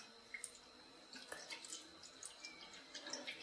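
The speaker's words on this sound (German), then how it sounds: "Jetzt brauchen wir noch ein bisschen Wasser." Water poured into an old East German K104 coffee machine during repair, a quiet close trickle with scattered drips and small splashes, no talking.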